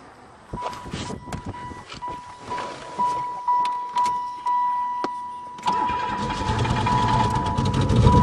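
A Pontiac engine cranks in uneven bursts with a steady tonal whine beneath, then catches and settles into a loud, rumbling idle for the final few seconds, close to the listener.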